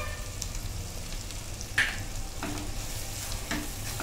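Fried eggplant with salt cooks in crackling hot oil, a steady close frying hiss with scattered pops and stirring scrapes.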